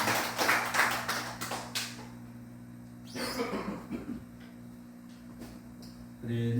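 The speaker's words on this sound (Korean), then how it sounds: "우리에게 말씀을 주신 우리 하나님께 영광의 박수를 드리시겠습니다." A church congregation at a Korean Sunday worship service bursts into applause, a dense clatter of clapping for about two seconds that fades into quiet room tone with scattered small noises.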